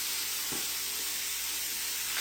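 Sausage and a little bacon frying in a pan give off a steady, soft sizzling hiss throughout, with a brief clatter near the start and no talking.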